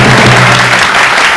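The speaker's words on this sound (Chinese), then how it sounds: "我们给这家餐饮业者掌声鼓励" A crowd applauds for a restaurant business at a Taiwan Affairs Office press briefing, with loud, dense clapping running throughout and a sustained low tone underneath.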